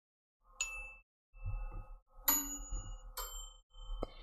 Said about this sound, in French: J'aimais bien le follow like notification ding.